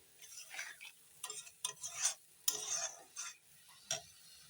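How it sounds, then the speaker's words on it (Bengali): Spice masala being stirred and fried in a pan while cooking a foli fish recipe, with quiet, intermittent scraping strokes and a faint sizzle, alone and without talk. "এখন একটু মশলাটা কষিয়ে নিই"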